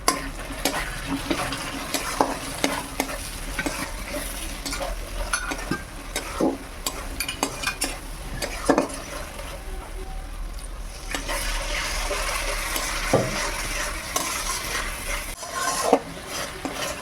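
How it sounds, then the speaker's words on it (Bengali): Turmeric and chili powder spices fry in hot oil in a home kitchen, a steady close sizzle broken by frequent scraping stirs and occasional clinks of a spoon against the pan, with no talking. "মশলা ভালোভাবে ভাজা হয়ে গেছে"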